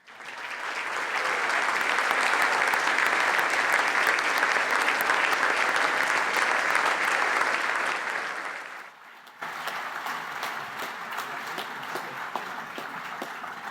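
Hearty applause at the IBSC 2019 Action Research Awards ceremony, a roomful of people clapping loudly and steadily for about eight seconds, then a brief dip before quieter clapping continues.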